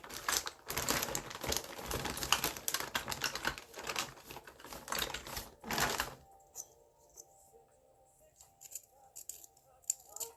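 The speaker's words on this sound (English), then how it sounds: "Now I'm going to sharpen this real quick." A soft eyeliner pencil is sharpened in a small handheld sharpener, a close, dense run of scratchy, crinkly grinding for about six seconds before it stops, followed by faint rustles and quiet handling noise.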